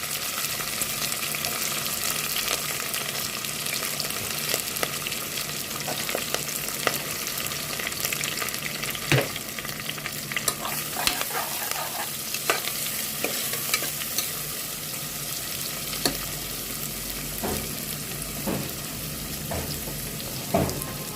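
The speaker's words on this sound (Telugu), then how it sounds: "ఉల్లిపాయలు పచ్చిమిరపకాయలు కరివేపాకు వేస్తున్నానండి" Onions, green chillies and curry leaves fry steadily in a pan for a mutton paya curry, a continuous close sizzle broken by irregular scraping stirs of a spoon, with no talking.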